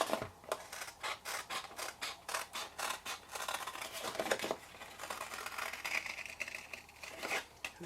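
Scissors snip rapidly through cardstock for a sloped-sided gift treat box, a quick series of crisp cuts in a steady rhythm, close and fairly quiet.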